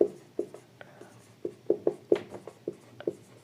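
Chalk or marker tapping and scratching on a classroom board in short, irregular strokes, a dozen or so distinct taps and scrapes spread over a few seconds, close and moderately loud with no talk over them.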